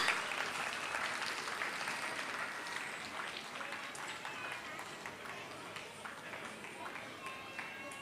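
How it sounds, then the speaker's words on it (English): Applause from a school annual day audience, a fairly faint, steady patter of many hands clapping, with scattered crisp individual claps and some crowd murmur mixed in. "Give a big round of applause."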